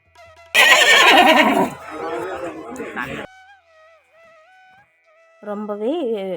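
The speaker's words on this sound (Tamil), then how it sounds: "ரொம்பவே வித்தியாசமான குதிரைகள் எல்லாமே வருங்க." Horses gathered at the Anthiyur Gurunathar Swamy temple festival whinny in loud, close neighs, one long call and then a second later on, with people chattering in the background.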